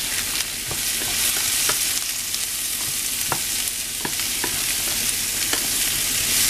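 Pumpkin frying with paprika in a pan, stirred briskly: continuous close sizzle broken by repeated sharp scraping clicks of the utensil against the pan.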